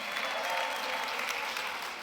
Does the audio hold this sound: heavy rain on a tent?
no